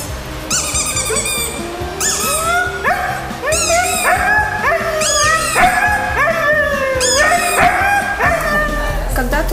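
A husky, a sled dog at an animal shelter, howls and yips in a long, loud, rising and falling sequence of wavering cries that continue steadily throughout.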